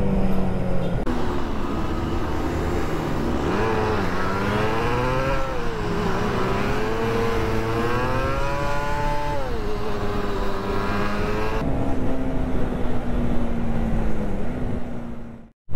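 A Honda CB150R motorcycle rides on a touring trip from Jakarta to Ciwidey, shifting up without the clutch. The close engine drone rises in pitch, then drops at each gear change, steady and loud until it cuts off at the end.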